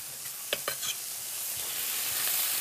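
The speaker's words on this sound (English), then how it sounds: "You can hear that sizzle." Pancetta sizzling while frying in a pan: a steady, close crackling hiss that builds slightly, with a few brief clinks of stirring near the start and no talk.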